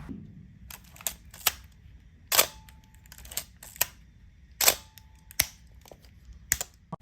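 Minolta SLR camera fitted with an MD Rokkor 45mm f2 lens fires its shutter repeatedly, sharp mechanical clicks and clacks spaced irregularly over several seconds, close and fairly quiet in a still room.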